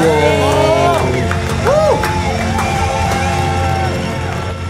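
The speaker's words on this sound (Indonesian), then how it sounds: "sekali lagi kasih tepuk tangan buat Ari Wibowo." A crowd cheers and whoops loudly, with scattered clapping mixed into a steady roar of voices.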